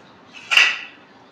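A small child gathers and stacks metal dinner plates at home, giving one soft ringing clink that swells and fades within about half a second in an otherwise quiet room.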